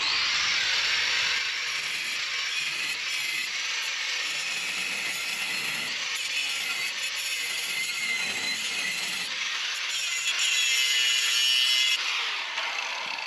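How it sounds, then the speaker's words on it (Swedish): A loud, steady grinding hiss of a power tool cutting through a metal bolt runs nonstop, with slight shifts in pitch and intensity. "Jag kan kapa av bulterna."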